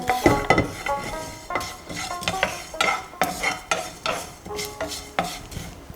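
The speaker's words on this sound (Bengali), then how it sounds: "শুকনো খোলায় ভাজব আস্তে আস্তে জিরের কালার চেঞ্জ হচ্ছে" Whole cumin seeds dry-roasting in a dry pan, stirred steadily by a spoon that scrapes and clicks against the metal in a repeated rhythm, with a faint dry sizzle underneath and no talk.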